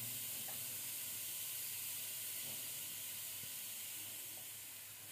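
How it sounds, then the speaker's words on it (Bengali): Cardamom and grated carrots fry in ghee for carrot halwa, a faint, even steam-like hiss that holds steady and fades slightly toward the end, with no voices. "এবার ঘিয়ের সঙ্গে এলাচগুলো একটু ভেজে নিয়ে দিয়ে দেব আগে থেকে গ্রেট করা গাজরগুলো"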